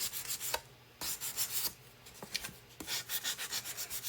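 Sandpaper scrubs over wood in quick back-and-forth strokes, a close, rhythmic rasping with short pauses between bursts and no talking.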